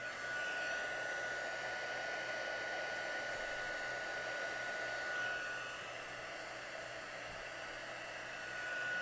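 A heat tool blows hot air onto a craft project, giving a steady loud whooshing roar with a faint whine that holds unbroken for about nine seconds, with no speech.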